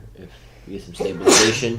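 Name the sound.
sneeze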